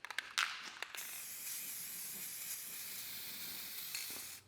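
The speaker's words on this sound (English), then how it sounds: "so I'm going to spray paint it to look like a barn." Spray paint hissing onto a miniature wooden barn mouse trap, a few short bursts at first and then one long, steady, fairly close spray that carries on almost to the end.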